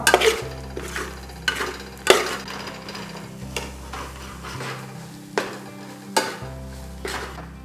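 Garam masala and pepper being stirred into a Kerala-style spicy beef curry, a spoon scraping the pot in repeated strokes about once a second over a soft, steady sizzle on low flame.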